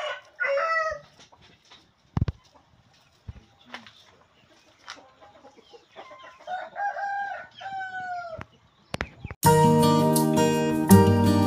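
Fighting roosters crow at a chicken farm in Sukabumi, several cock-a-doodle-doo calls from nearby birds over background clucking and faint farm noise, ending with a sudden loud burst of other sound.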